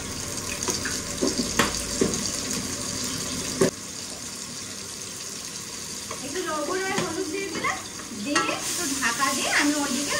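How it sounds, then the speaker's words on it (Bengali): Onions fry and sizzle in a pan in a home kitchen, a steady hiss with stirring and clattering, while running water and brief talk come in partway through. "পেঁয়াজ যেগুলো ভাজাভুজি রয়েছে না, সেগুলো আর কি ভাজতে দিয়ে দিই।"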